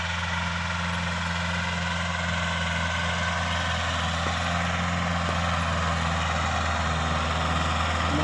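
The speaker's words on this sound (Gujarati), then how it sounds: "ટ્રેક્ટર ચાલુ છે" Farm tractor engine running at a shed under cloudy skies, a steady low droning idle with a constant hum and faint rattling vibration, unbroken and fairly close.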